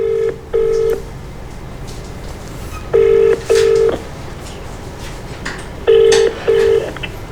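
Telephone ringback tone on an outgoing call, repeated in three spaced pairs of short steady beeps at a regular rhythm, clear and fairly loud over faint background hiss.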